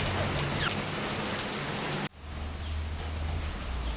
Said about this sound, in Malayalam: മഴ കുറച്ച് കുറഞ്ഞിന്, എന്നാലും കുറച്ചുണ്ട്